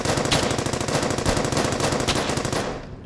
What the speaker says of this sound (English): No way. MG42.